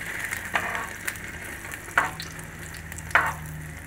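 Egg-dipped bread toast frying on a griddle (tawa), a constant close sizzle with a few sharp scraping clicks of a spatula at intervals.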